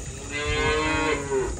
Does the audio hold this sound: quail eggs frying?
no